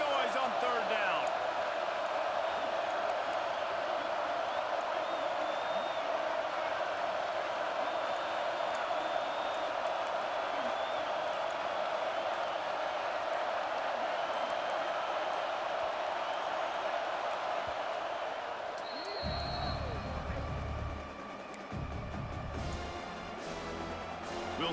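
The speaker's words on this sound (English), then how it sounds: "This dog crowd is off the leash, and they are coming after them, bringing noise on third down." Stadium crowd roar in a college football video game, LSU at Georgia: a sustained, loud wash of crowd noise that holds steady for about twenty seconds, then drops away as game effects and thuds take over.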